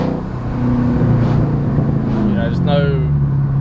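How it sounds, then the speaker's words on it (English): A straight-piped V8 car exhaust burbling deep and loud from inside the car as it drives, a steady rumble that swells after a brief dip, with someone talking over it. "Straight piping a V8 was the best decision I ever did."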